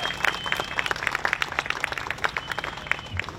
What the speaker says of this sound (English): Let's give them a round of applause, folks.